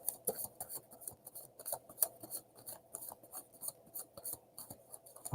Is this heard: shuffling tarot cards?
yes